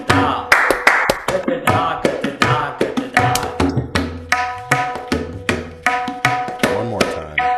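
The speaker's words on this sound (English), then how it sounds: "everyone tries to clap during that and see how many people can catch on where the claps take place" An audience claps along to a tabla rhythm at a music hour with bansuri and guitar, the claps scattered and not quite in sync, mixed with drum strokes and sustained tones in a lively, continuous pattern.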